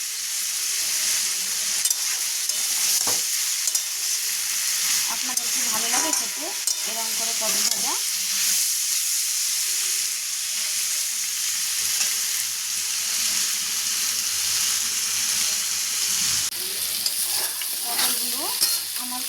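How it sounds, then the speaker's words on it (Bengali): Small pieces of pointed gourd frying in a pan give a loud, continuous sizzle, with scraping and stirring strokes breaking through now and then, no speech. "এত ছোটো ছোটো করে টুকরো করে পটল ভাজতে হবে"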